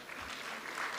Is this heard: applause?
yes